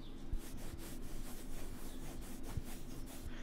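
A fabric phone case for a Xiaomi Mi A1 is rubbed right against a microphone, giving a continuous close scratchy rustle with occasional soft thumps, quiet and steady throughout.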